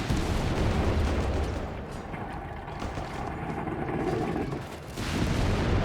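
Battlefield gunfire and booming explosions from a Company of Heroes 3 match, a Wehrmacht versus US Forces game with mortars shelling, roll on as a dense, continuous rumble of distant blasts with no clear pauses.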